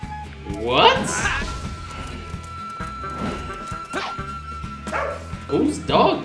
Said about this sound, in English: made a dog bark inside the studio room and recorded it and put it in the game